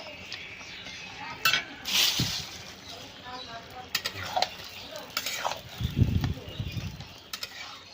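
Potato and bottle gourd, cooked with a fish head for lau ghonto, stirred in a pan until dry: a spoon scrapes and clinks against the metal over a soft sizzle, with a voice at times.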